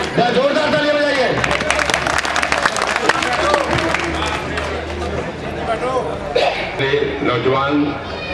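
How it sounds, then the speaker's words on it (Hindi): An audience claps loudly at a public gathering in Hindi, with dense, continuous applause and crowd noise while a voice carries over it. "जोरदार तालियां बजाइए।"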